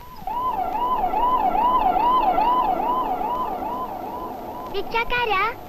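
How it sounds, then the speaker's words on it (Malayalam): An ambulance siren wails in a smooth, regular rising and falling cycle, loud and close, then breaks into faster warbling bursts near the end as it fades slightly. "അത് ആംബുലൻസ്. കയ്യും കാലും മുറിഞ്ഞവരും മരിച്ചുപോയവരും കൊണ്ടുപോകുന്ന വണ്ടി."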